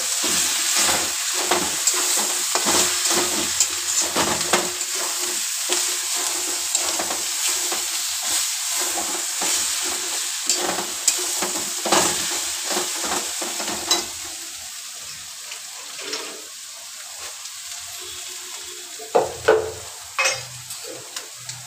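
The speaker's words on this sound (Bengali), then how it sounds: "এবার ভালো করে নেড়ে নেবো।" Pointed gourd with turmeric powder frying in a pan while being stirred: a continuous close sizzle punctuated by scraping spatula strokes, easing to a quieter hiss toward the end with a few sharp knocks.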